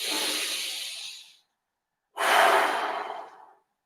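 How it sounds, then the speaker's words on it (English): Deep breath drawn in during a guided breathing exercise, a long airy inhale lasting over a second, then a pause and a second strong breath, close and clear with no talking. "Deep breath in."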